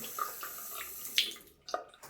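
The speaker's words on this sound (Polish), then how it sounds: "tylko muszę spłukać dobrze ręce" Water from a tap runs over hands being rinsed, a soft continuous splash with a few brief louder spatters, close and fairly quiet with no talk.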